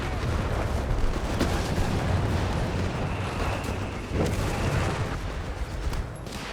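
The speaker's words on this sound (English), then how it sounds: "Panthers is under fire from the Greyhound." Battle in Company of Heroes 3 as a Greyhound armored car fires on Panther tanks, heard as a dense, continuous roar of gunfire, booms and explosions with no pauses, loud and close.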